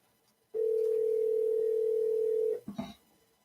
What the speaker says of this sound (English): Why is it ringing?